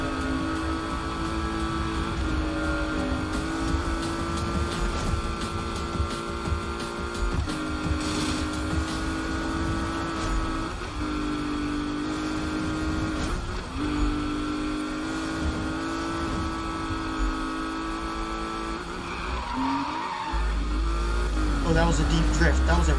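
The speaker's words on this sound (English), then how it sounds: "That was a deep drift. That was a real deep drift." A Porsche drifting in the Need for Speed (2015) video game, its engine droning steadily with revving swells and tyre noise over about twenty seconds, with someone talking over it.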